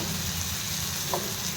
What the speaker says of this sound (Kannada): ಈರುಳ್ಳಿ ಮೆಣಸಿನ್ಕಾಯಿ ಎಲ್ಲ ಫ್ರೈ ಆಗ್ತಾ ಇದೆ.